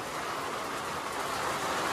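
Heavy rain pouring steadily, a dense, even hiss of downpour with no breaks, no voices over it.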